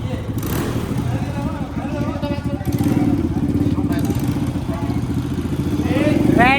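A motorcycle engine, a bike that will not start, chugs and rattles unevenly at close range, the rough mid-pitched churn growing slightly louder toward the end.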